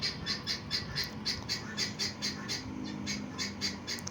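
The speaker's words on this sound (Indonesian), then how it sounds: "sorry banget kalau agak berisik dengan suara burung tetangga yang di belakang itu rumah saya ya teman-teman" A neighbour's bird squawks repeatedly from behind a house, a steady run of harsh, evenly spaced calls, moderately distant and fairly faint over low background noise.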